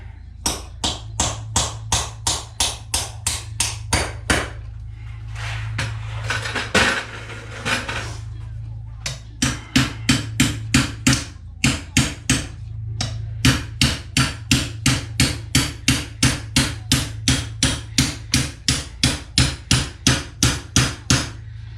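A knife is hammered through material in a torture test, sharp metallic blows striking in a rapid steady rhythm, loud and close, pausing briefly midway before the pounding resumes.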